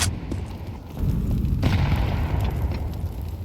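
A grenade going off in Counter-Strike 2 during a pro match, a loud low boom that swells and rumbles for a few seconds amid ongoing match noise.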